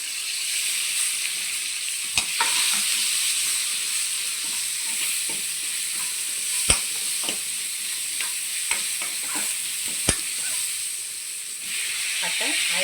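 Onions fry in oil with curry leaves, giving a sustained close sizzling hiss broken by several sharp crackles and pops over about thirteen seconds.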